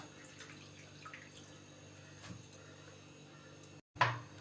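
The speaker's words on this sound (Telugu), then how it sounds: "వాటర్ పోసేసుకుందాం." Faint, steady trickle of water running into a pressure cooker holding washed leafy greens, with a brief clatter near the end.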